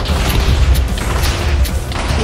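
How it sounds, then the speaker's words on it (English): Dalek firing artillery rounds while flying in the Minecraft Dalek Mod, a dense rumbling barrage of booms and crashes with steady low thuds running continuously and loudly, no talking. "it's flying, and it's shooting artillery bullets."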